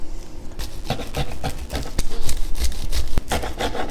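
A knife saws through the edges of cheesy garlic bread in quick, rough back-and-forth strokes, loud and close, with no talking.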